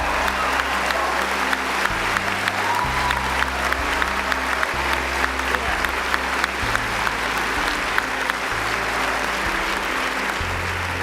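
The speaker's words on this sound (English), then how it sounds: "give yourself a round of applause, please" Dense, steady audience applause fills the whole stretch at a speech event, with many hands clapping at once and a low musical bed running underneath.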